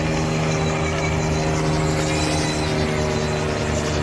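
A small toy helicopter drone and a real helicopter, heard as a steady, loud droning whine with sustained tonal hum and constant rotor buzz throughout, no speech.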